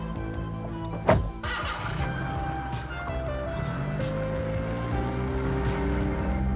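A Nissan Pintara sets off with a brief thump near the start, then settles into a smooth, quiet, steady engine and road hum heard from inside the car, with no talking.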